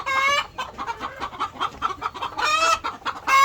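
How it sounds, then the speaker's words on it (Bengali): Frightened chickens cluck loudly and repeatedly in agitated bursts, with sharp squawks rising near the end, close by. "দেখুন আমাকে দেখে ভয় পেয়েছে, তাই মুরগিগুলো কীভাবে করছে, মানে কেমন করছে দেখেন আপনারা।"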